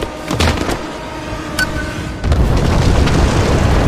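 A loud bomb blast in the Rise of the Tomb Raider video game, a deep booming explosion followed by rumbling debris, with a second heavy burst roaring up near the end.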